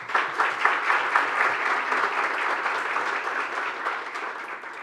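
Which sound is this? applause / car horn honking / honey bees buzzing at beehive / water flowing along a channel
applause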